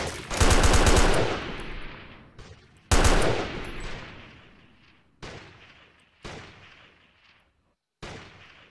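Video game gunfire: two long, loud bursts of automatic fire with echoing tails, followed by several single booming shots that fade out, with no talking.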